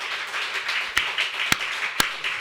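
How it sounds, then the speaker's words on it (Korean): A church congregation claps during a sermon, a soft steady patter of many hands with a few sharper, louder claps standing out at roughly half-second intervals. "박수를 쳐야 되겠나 안 쳐야 되겠나."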